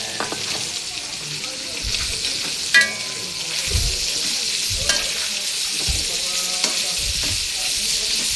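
Meat with carrots and chayote stir-fried in a pan, a steady bright sizzle broken by clanks and scrapes of a utensil against the pan at irregular intervals.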